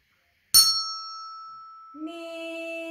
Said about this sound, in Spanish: Vamos a verlo con las campanas.